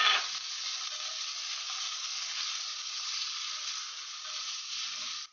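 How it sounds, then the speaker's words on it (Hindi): Cumin seeds, garlic pieces and onion fry in a pan for a drumstick sabji. A steady, close hiss of sizzling runs throughout, with no talking. "अब इसमें 1 चम्मच जीरा, लहसुन के टुकड़े और प्याज डालकर अच्छे से भून लीजिए।"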